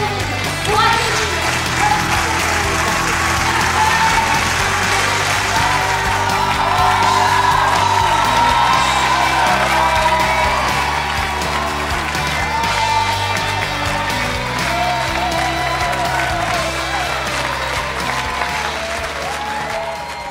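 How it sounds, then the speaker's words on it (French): A crowd at a French European-election political rally applauds and cheers for a long stretch, loud sustained clapping with whoops and shouts, while talk and music-like tones run underneath. "Je vous demande d'applaudir pour accueillir."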